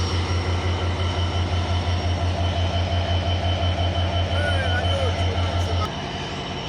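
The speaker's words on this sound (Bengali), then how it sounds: "ওটাই তো 66-14 লোকোমোটিভ আমার সামনে রয়েছে তিতুমিরে" The Titumir Express intercity train, hauled by locomotive 6614 near Saidpur, rumbles past with a steady rhythmic clatter of wheels on rail joints and a constant drone, loud and close, until the beat stops near the end.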